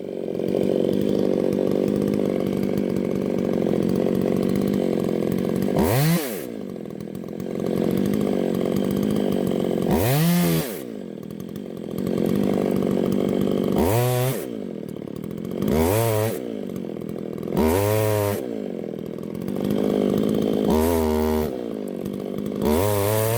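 Small gasoline chainsaws such as the Echo 360 EVL, Dolmar PS 410, Stihl MS 181 and Makita EA3 cutting through wood in a comparison test, loud sustained engine whine broken by several revving pauses and restarts between cuts.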